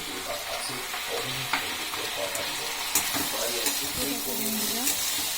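Food sizzles in a hot pan while being stirred, with a constant frying hiss and scattered scraping clicks from the utensil close by.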